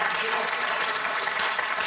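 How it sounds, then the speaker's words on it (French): Enthusiastic audience applause for a slackline performer, a dense, continuous burst of many hands clapping close by, with a voice faintly underneath. "On peut applaudir vraiment"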